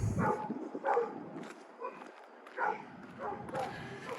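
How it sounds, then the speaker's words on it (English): Dogs barking from backyards along a residential street in the Glen Elm neighbourhood of Regina, heard in repeated bursts at moderate distance against outdoor street background. "Dogs in backyards always hate to hear somebody walking by."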